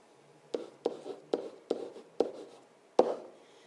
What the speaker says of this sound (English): So I'm just going to write that.